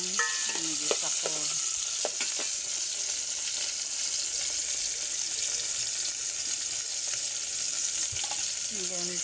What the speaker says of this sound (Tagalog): Ginisang sibuya, kamatis at bawang na yan. Gisa ko.